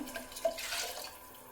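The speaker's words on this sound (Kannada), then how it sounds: "ಮಿಕ್ಸಿ ಹಾಕಿದ್ನಲ್ವ, ಅದನ್ನೆಲ್ಲ ತೊಳ್ಕೊಂಡು ನೀರು ಹಾಕ್ತಿದ್ದೀನಿ." Brief splash of running water into a mixer jar as it is rinsed, a short gush that swells and fades within a second or two, fairly quiet.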